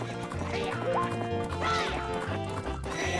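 A horse whinnies in the video game Majora's Mask, during a horse race, its rising neigh standing out briefly against busy game music with pulsing low notes.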